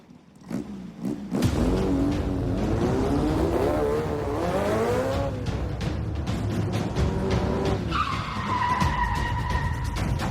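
A car race with loud, continuous engine roar and revving rising and falling in pitch, tyres skidding and squealing throughout, and a sustained high screech near the end.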